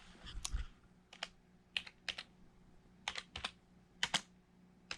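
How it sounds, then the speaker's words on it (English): Keys clatter on a computer keyboard in short, irregular bursts of several quick taps separated by pauses, close and fairly quiet in a still room. "Let's enter it into the keyboard here."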